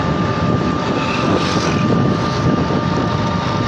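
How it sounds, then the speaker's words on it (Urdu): Tractor levelling ploughed farmland with a blade, a loud steady engine rumble with a constant tone running through, close by and without voices. "یہ ٹریکٹر لیبل کر رہا ہے."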